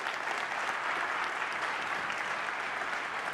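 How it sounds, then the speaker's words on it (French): Audience applause at a French-language event, honouring partners including pharmacies: a dense, even wash of many hands clapping that holds steady throughout, heard at a moderate distance with no talk over it. "On peut tous les applaudir"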